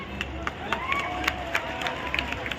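A festival crowd in Balrampur applauds police constables, scattered claps and crowd noise with brief sharp peaks under a steady hum, with voices mixed in.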